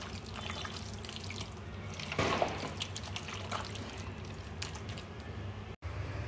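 Water pours steadily into a pot for cooking biryani, a continuous close splashing rush that swells briefly in the middle before settling back to an even flow, with no talking.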